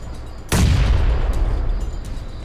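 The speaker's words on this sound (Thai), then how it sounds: "อุ้ยระเบิดมา" A sudden loud boom of an explosion in the game PUBG Mobile, followed by a rumbling tail and scattered smaller pops, with nobody talking.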